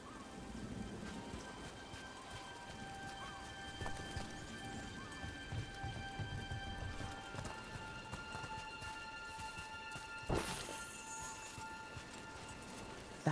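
Steady rain falling in the video game Dragon Age: The Veilguard, a constant hiss with scattered drops and splashes throughout, plus a brief louder impact near the end.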